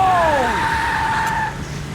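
Car from the video game Max Payne 3 driving with a sliding tire skid, a descending squeal sweeping down over a steady engine drone, loud and close, fading slightly near the end.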